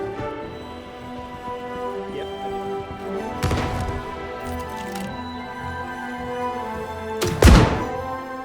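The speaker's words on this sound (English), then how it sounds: "You want me to pop a grenade in there? Yeah, drop one down" A grenade dropped down a ladder in the video game Star Citizen, two heavy thunks some seconds apart with a booming low-end burst, over a droning game ambience.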